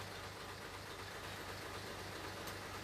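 A truck's cabin air-conditioning compressor runs beside the idling engine, making a steady low mechanical drone with a faint rhythmic pulsing throughout.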